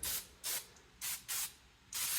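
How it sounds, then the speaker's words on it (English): Olive oil spray misted onto steelhead trout as a seasoning binder, five short hissing bursts from a can, each about a quarter second long, close and clear with brief quiet gaps between them. "I use the olive oil spray because it works well as a binder and it doesn't add any unwanted flavor to the salmon or steelhead trout."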